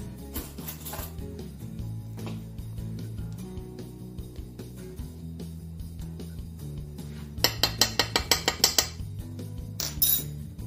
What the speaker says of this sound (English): Now I'm just gonna strain the water and start mashing